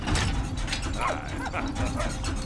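A dog in the Valiant Hearts video game gives excited yips and short barks in quick succession. The sounds are loud and close over busy game background noise.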